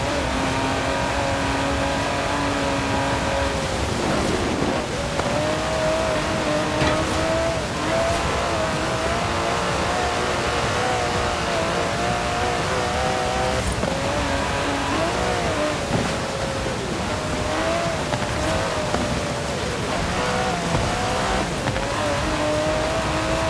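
An Aston Martin DB11 driven in the racing game Forza Horizon 4, its engine droning steadily with shifting revs and gear changes throughout, loud and constant with no talk.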